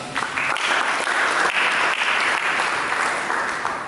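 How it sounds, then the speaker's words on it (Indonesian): A church congregation claps in sustained, dense applause filling the hall, loud and even from start to finish with no voices standing out. "Berikan tepuk tangan."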